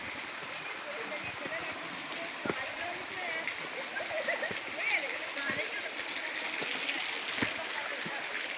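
Spring water flows from a forest source in Gorkha, a steady close splashing trickle with a person talking over it.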